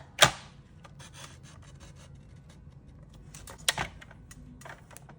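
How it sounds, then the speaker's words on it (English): A paper trimmer slices excess cardstock from a die-cut edge card, two sharp close cutting snaps about three seconds apart with faint rustling and handling in between. "I'm going to use my trimmer to get rid of some of this excess."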